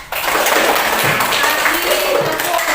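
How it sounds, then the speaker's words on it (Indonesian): Classroom applause for a student group rises suddenly and holds as a steady, dense patter of many hands, mixed with children's voices underneath. "Nah, tepuk tangan dulu untuk kelompoknya Chandra"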